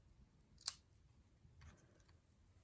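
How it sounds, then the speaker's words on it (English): Ribbon scissors cut a single diagonal snip through ribbon, one crisp quiet cut followed by faint handling rustle in a still room. "We will get our ribbon scissors, and it is up to you whether you cut a sort of diagonal or you cut it straight."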